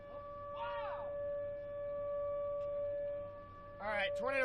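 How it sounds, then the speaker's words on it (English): Tornado sirens wail during a tornado warning in Poplar Bluff, Missouri: a steady, distant held tone runs throughout, with brief voices at the start and end. "All right, tornado sirens have been activated here in Poplar Bluff."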